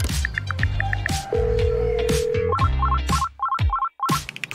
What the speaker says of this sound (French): Pourquoi est-ce qu'il ne répond pas à son téléphone?